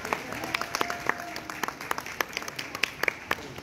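Scattered handclaps from a few people at a horse riding course, irregular and fairly close, with a faint voice underneath.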